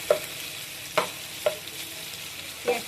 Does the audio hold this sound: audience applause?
no